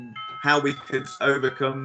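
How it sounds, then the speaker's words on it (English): A melodic electronic doorbell chime plays a short tune of several tones, close by, overlapping a person speaking. "That's my doorbell."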